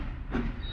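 A short train sound effect of rolling wheels and a hissing rush, heard in a brief burst over a steady rumble.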